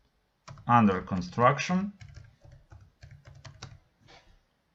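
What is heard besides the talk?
typing on a computer keyboard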